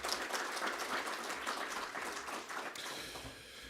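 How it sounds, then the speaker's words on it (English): An audience at a biomass industry conference gives a faint, distant round of applause, dense clapping that thins out toward the end. "Another round of applause, please, for Mrs. Metzger."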